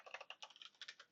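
Quick, uneven clicking of a computer keyboard as someone types, soft and close with around a dozen distinct keystrokes in a short burst.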